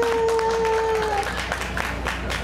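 A fair crowd at Okinawa Cellular Park Naha applauds in a mascot popularity vote; sustained tones give way midway to a fuller spread of clapping from many hands, steady and moderately loud.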